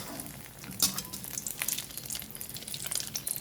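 Butter sizzling and frying in a pan while cooking misua for breakfast, a steady crackling hiss with scattered pops and stirring clinks throughout, fairly close.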